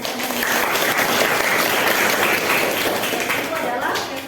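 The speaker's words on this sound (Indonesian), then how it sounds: "Baik, kita berikan tepuk tangan." A school class applauds together in a steady, dense burst of clapping lasting a few seconds, close and fairly loud, with a voice faintly present.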